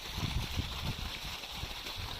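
Water from a solar pump pipeline runs out in a steady broadband rush with low gurgling, close and continuous, no voices.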